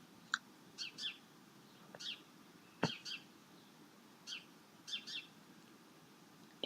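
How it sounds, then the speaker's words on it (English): Sparrows chirp in short, scattered bursts at a moderate distance, with a sharp knock partway through and a quiet outdoor background. "That's sparrows you can hear."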